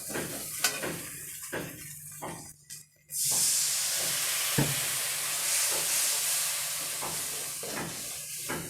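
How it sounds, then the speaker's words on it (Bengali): Dried Bombay duck fish masala with chilli powder and salt is stirred in a pan, spatula scrapes knocking at intervals, then water goes in and a loud continuous steam hiss and sizzle takes over. "এবার এটাকে আমি ভালো করে কষিয়ে নেব।"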